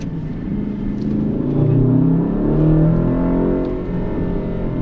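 An Aston Martin engine revs under less than half throttle, a smooth, steady, fairly loud drone whose pitch swells gently and then settles, with no voices.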